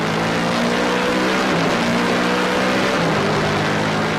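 A 2012 NASCAR Canadian Tire Series race car engine screams at high revs on board, steady and loud, with brief pitch dips at quick close-ratio gear changes before climbing again.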